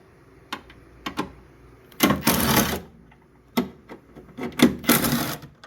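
Ratchet wrench loosening 12 mm bolts on the 2.3L turbo engine of a 2008 Mazda CX7: short clicks, then two longer bursts of close, sharp ratcheting separated by quiet pauses.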